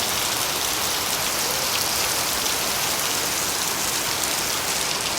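Heavy rain pours down steadily in Chittagong, a dense, even hiss of drops striking surfaces that stays loud and unbroken throughout, with no voices.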